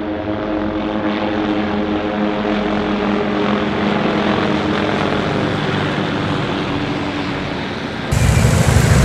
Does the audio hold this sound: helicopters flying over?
yes